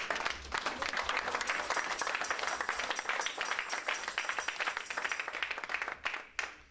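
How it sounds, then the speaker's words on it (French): A church congregation breaks into sustained applause, dense clapping from many hands filling the room before it thins and fades out near the end. "Si on peut acclamer la parole de Dieu"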